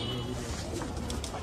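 Pigeons coo softly and repeatedly inside a netted rooftop loft, their low burbling calls close and continuous amid light background rustle.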